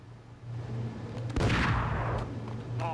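A sharp gunshot bursts out near and loud in a Max Payne shootout, followed by a rough, decaying blast and rumble over a low steady hum, with a fainter crack trailing near the end.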